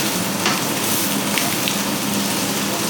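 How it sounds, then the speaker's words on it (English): Hot oil spitting and sizzling steadily in a pan while frying cheese steak pasta, a dense continuous crackle heard close up with small pops scattered throughout and no talking. "I just like to stand back a bit because I've got oil spitting"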